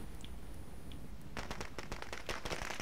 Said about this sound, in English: Stop throwing firecrackers at me.